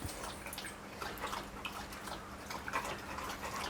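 A pit bull laps water at close range in hot weather, giving soft, steady wet slurping and dripping sounds, quiet and continuous over a faint background hum.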